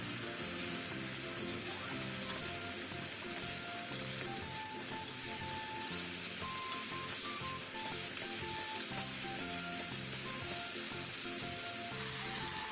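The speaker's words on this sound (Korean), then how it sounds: "그 다음 양념장을 넣고 골고루 섞어가며 볶아주세요." Meat and onions stir-fry with a seasoning sauce in a pan, a continuous, dense sizzle with soft stirring scrapes running steadily throughout, close but moderately quiet, with no voices.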